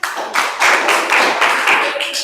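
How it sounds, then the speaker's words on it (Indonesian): Students in a classroom break into a sustained round of clapping, a dense, loud patter of many hands up close with little talk. "Oke, tepuk tangan."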